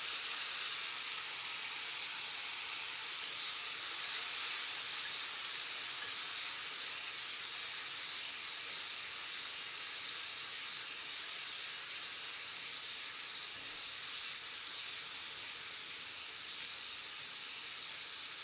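Thai turkey berries and their seeds saute in a pan, giving a continuous, even hiss and sizzle that stays steady and fairly quiet throughout, with no one speaking.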